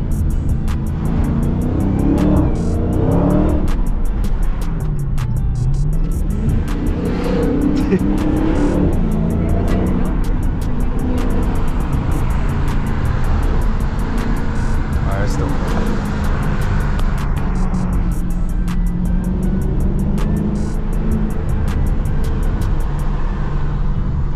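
A Dodge Challenger Hellcat with 717 horsepower, set to sport mode, drives on Los Angeles streets with a loud, continuous engine roar that rises and falls as it revs. Voices talk throughout over the engine.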